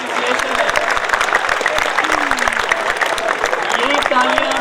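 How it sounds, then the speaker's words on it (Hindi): Steady dense applause from an audience at a college sports festival opening ceremony in Multan, sustained loud clapping filling the hall with crowd murmur and a voice faintly over it. "ये जो यहाँ पर आप बजा रहे हैं तालियां"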